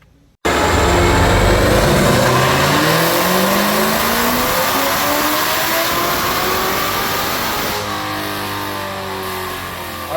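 Car engine on E85 fuel revving hard through a dyno power run, a loud, close, continuous roar with pitch climbing steadily, then dropping off and rising again near the end.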